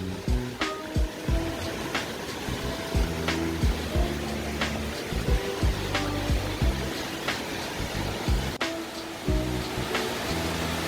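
Yukdam Falls, a waterfall over 40 metres high in Seoraksan's Towanggol valley, roars as a steady broadband rush of falling water, with intermittent low voice-like fragments and faint clicks layered over the constant wash.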